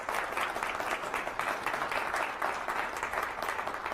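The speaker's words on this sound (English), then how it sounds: "applause" A public meeting audience applauds steadily for about four seconds, dense and even clapping at close range with no voices on top.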